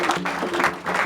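A church congregation applauds, a steady, full burst of clapping from many people heard close throughout the brief moment, with some voices mixed in.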